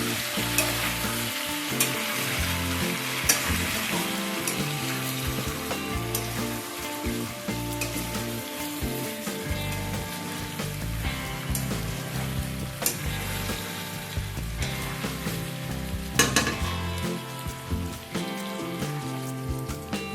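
Chicken sizzles loudly in a pan over a medium flame with ginger-garlic paste and is stirred steadily, with dense continuous frying crackle and occasional clanks of the spoon against the pan, with no voices.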